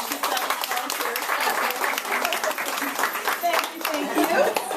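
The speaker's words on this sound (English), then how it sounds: "Big round of applause for my two volunteers." An audience gives a round of applause for two volunteers, with dense, steady clapping filling the room at close range and swelling slightly toward the end.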